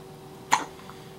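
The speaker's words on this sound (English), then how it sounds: "Now he's got the hiccups." A newborn baby gives a single soft, sharp hiccup in a quiet room shortly after a feeding, brief and close against faint background hiss.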